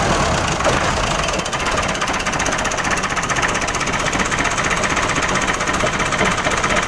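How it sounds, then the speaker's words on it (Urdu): A tractor engine on a Pakistani Punjab village farm, started after standing idle for months, runs with a loud, rapid rattling knock. The hammering chug is dense and continuous throughout and close to the listener. "دوسری گاڑیوں کی بنسبت ٹریکٹر کی سٹارٹنگ جو ہوتی ہے وہ"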